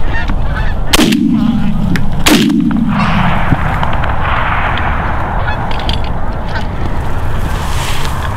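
Two loud, booming gunshots ring out about a second apart at a shooting event and echo away, followed by a steady outdoor rumble and some background noise.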